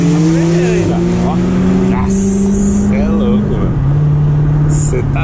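A Porsche 911 sports car accelerating hard, its loud engine note climbing steadily through the gears close by, with people talking excitedly over it.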